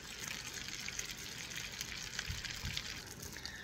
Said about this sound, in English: we are going to pour this on top of our potatoes.